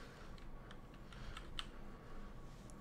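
Someone types on a computer keyboard while coding in Unity, a quick run of light, crisp key clicks at an uneven pace over a low steady hum, with no voices.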